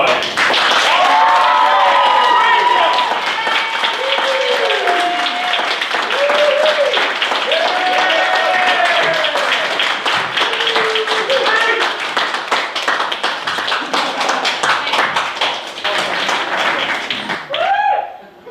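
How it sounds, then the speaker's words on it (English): Clapping and applause from a pantomime audience run on throughout, with voices talking and calling out over the claps before the noise fades at the end. "I think you owe this lady a huge round of applause for the amount of effort."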